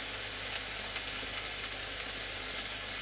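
Onions fry in a pan with light brown sugar sprinkled over them, giving a steady, close, even sizzle with faint crackles throughout.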